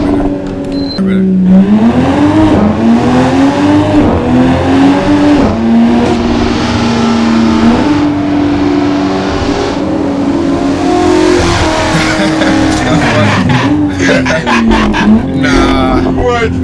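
Simulated BMW 3 Series engine in Assetto Corsa revving hard through the gears, a loud continuous engine tone rising and dropping with each upshift, heard close and dominating for the whole stretch.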